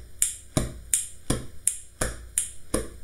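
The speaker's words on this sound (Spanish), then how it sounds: "vamos a hacer snap, chasquido," Finger snaps during a primary school music class, a sharp snap roughly every 0.6 seconds in a steady chanting rhythm, each crack with a quick body-slap thump after it, close and clear with no talking.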